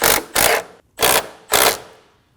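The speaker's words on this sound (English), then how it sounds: "Snug the bolt down." Hold-down bolt on a Ram 2500 battery being snugged down with a ratchet: three to four bursts of clicking ratcheting, close and fairly loud, separated by brief pauses.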